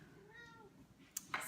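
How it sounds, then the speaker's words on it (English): A cat meows in front of a door indoors, with soft, drawn-out meow tones at moderate distance followed by two short, sharper bursts near the end. "I have a cat that's meowing in front of the door"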